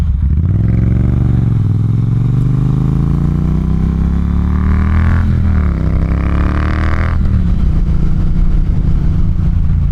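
A Triumph T120 motorcycle runs loud and steady through a ride, its engine pitch climbing and falling as the rider trail-brakes, slows for a stop sign and accelerates again, with wind and road noise throughout.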